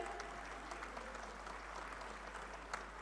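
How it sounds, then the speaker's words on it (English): Steady applause from a crowd fills the whole stretch, a continuous patter of clapping at moderate distance with a low hum underneath. "Let's have a huge round of applause"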